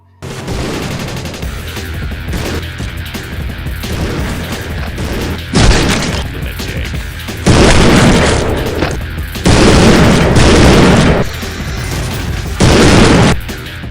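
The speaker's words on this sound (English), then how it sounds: "One of the most awe-inspiring, death-bringing, and blatantly overpowered weapons in all first-person shooters, the sawed-off shotgun." Sawed-off shotgun blasts in the first-person shooter Postal 2, several loud, booming reports at irregular intervals over a continuous bed of game noise and music.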